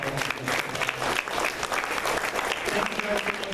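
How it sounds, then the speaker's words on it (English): Audience applause for panelists at a Constitution Day panel discussion, a steady burst of many hands clapping close by with some voices mixed in. "A round of applause for our panelists and for yourselves."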